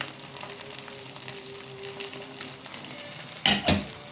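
Onions and peppers frying in a pot over meat for a kebab stew give a steady close sizzle, broken near the end by two sharp clattering knocks of a utensil against the pot; no one talks.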